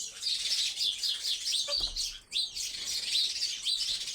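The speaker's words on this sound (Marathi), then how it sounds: "चिवताई आता चिवचिव करू राहिले" Sparrows chirp busily in the morning, a dense run of bright, overlapping tweets carrying on throughout, with a brief low thump partway through.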